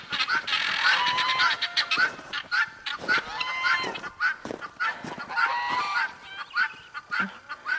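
Guinea fowl call repeatedly outdoors in a steady, raucous run of harsh, rhythmic squawks and honks, loud and close, with a flock roaming about.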